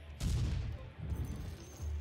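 A Steam Cannon card fires in the Artifact card game, two or three heavy booming blasts with rumbling tails close together, heard on their own without voices.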